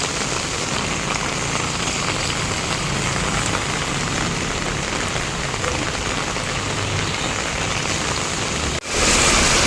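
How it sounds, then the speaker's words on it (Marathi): Heavy monsoon rain pours steadily on a flooded street in Nalasopara, Mumbai, a dense, loud, unbroken hiss that holds for nearly the whole stretch before a brief sharp change near the end. "पाऊस जोरात आलाय पुन्हा"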